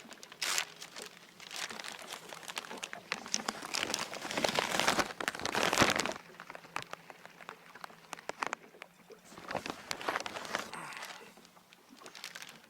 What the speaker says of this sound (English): there's some rain starting to fall